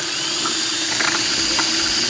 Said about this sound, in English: very slowly, you very gently start drilling the hole